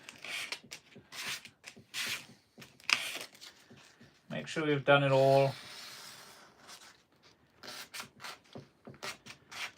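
A triangular sanding pad rubs over a cured epoxy coat in short scratchy strokes, with a person talking briefly between the bursts of sanding.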